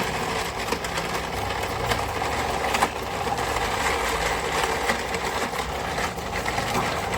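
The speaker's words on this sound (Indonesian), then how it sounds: "berikut tadi video simulasi mockup mesin penepung rimpang yang kami bikin" A mockup rhizome flour milling machine runs with a steady, continuous mechanical hum and buzzing drone, loud and unbroken throughout, with no talking.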